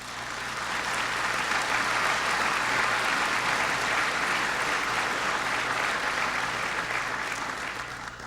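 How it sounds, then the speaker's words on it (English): Sustained applause from diners at a World Jewish Congress dinner, a steady wash of many hands clapping that holds evenly for several seconds before easing slightly at the end, with no talk over it. "So therefore, we will triple the applause today."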